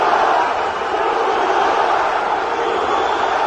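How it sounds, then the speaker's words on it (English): A UFC arena crowd at UFC 242 roars steadily in support of fighter Zubaira Tukhugov, a loud, sustained wash of cheering with no break. "crowd getting behind him early in this one to the surprise of no one"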